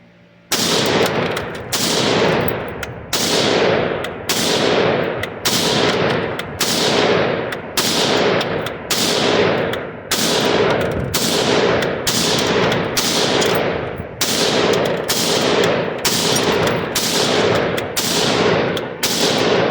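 A Galil SAR rifle fires about fifteen loud, sharp single gunshots in a steady, evenly spaced rhythm roughly a second apart, each with a ringing decay outdoors and no voices between the shots.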